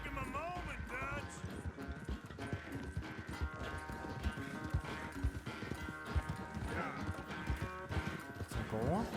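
Horse hooves clip-clop steadily on a trail in the video game Red Dead Redemption 2, a continuous rhythmic patter with an occasional whinny, under background music and someone talking in French.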